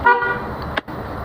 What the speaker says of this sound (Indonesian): klakson D9 sudah berada di sini, jadi udah seperti mobil normal lainnya, klaksonnya udah pindah ke atas